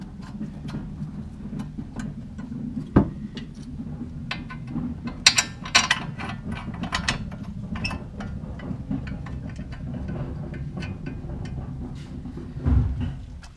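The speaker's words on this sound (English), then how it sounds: "you thread your bolts back into the caliper bracket" A ratchet wrench turns bolts back into the brake caliper bracket of a Ford Crown Victoria during wheel hub installation. Its close, dry clicking comes in uneven runs, broken by a few sharper metallic knocks, with no talking.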